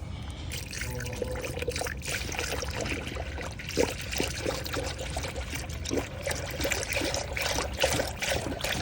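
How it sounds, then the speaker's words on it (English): Coolant pours steadily through a funnel into the cooling system of a 2022 Mazda, a continuous close trickling and gurgling of liquid with small splashes, with no talk over it. "Now we're gonna take our coolant and pour it in."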